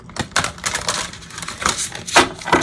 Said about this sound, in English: will side shuffle well like this, but Tara's using really wonderful cardstock